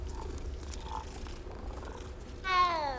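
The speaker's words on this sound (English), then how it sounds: "Kitty cat." A cat in the video game Hogwarts Legacy purrs in a soft, steady rumble, then lets out a clear, close meow near the end.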